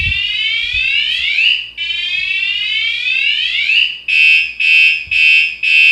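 A 113 dB motorcycle alarm siren blares loud and close, two long rising wails followed by a run of rapid pulsing bursts, with no talk over it.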